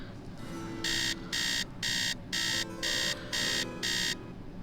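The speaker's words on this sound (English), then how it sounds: "Let's set the alarm for 10 in the morning." Alarm clock in the video game Nancy Drew: Treasure in the Royal Tower rings in seven evenly spaced loud electronic bursts over a steady low background hum, with no voices.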